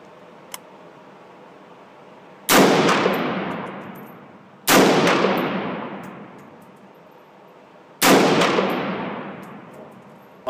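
Three loud rifle shots from a scoped rifle, each a sharp crack followed by a long decaying echo, spaced about two seconds apart, with no talking.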